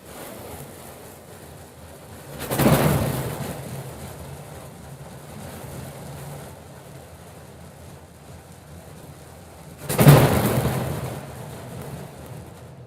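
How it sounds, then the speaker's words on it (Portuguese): Rain with thunder as a sound effect: two deep, rolling thunder rumbles swell and fade several seconds apart over a soft, steady background of rain. "Chuva com um trovão"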